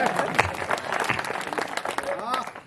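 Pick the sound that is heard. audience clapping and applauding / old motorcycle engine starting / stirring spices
audience clapping and applauding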